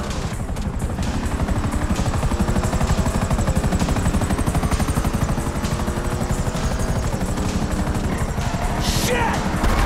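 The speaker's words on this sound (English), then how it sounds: "Chopper." A police helicopter in Grand Theft Auto 5 thrums steadily and loudly with rapid rotor chop throughout, joined by bursts of gunfire and a voice speaking over it.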